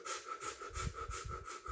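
A voice imitates rapid, choppy anxious breathing, a quick run of short panting breaths in and out, close and fairly soft, with no words spoken.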